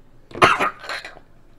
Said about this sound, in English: I'm trying not to cough.